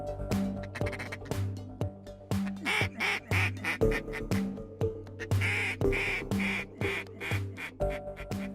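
Repeated duck-call quacks from a Sure Shot Yentzen Classic, blown in short rhythmic bursts of loud, nasal calls at a Winnie, Texas duck-hunting marsh at sunrise, with no talking.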